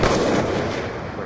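Loud gunshot in a shooting video game, a single booming blast that rolls off into a long decaying echo over about a second.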